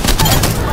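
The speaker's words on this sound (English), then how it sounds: "Getting shot at. Opening fire." Spitfire light machine gun firing in Apex Legends, a loud, close burst of rapid automatic shots packed tightly together within under a second, with game combat noise around it.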